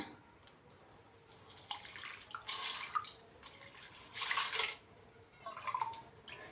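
Water poured into a pressure cooker holding washed moong dal in a home kitchen, coming in two louder splashing bursts with softer trickles and drips between, close and without talk.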